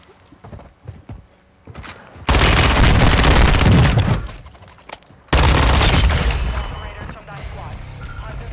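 Gunfire from a gun in a video game: two long, loud bursts of sustained rapid shooting separated by a short lull, with faint voices and game sounds between them.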